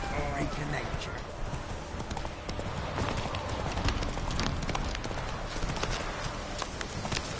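Roach the horse trots in The Witcher 3, with rhythmic hoof clip-clops running steadily under a dense game soundscape, and speech is heard over it.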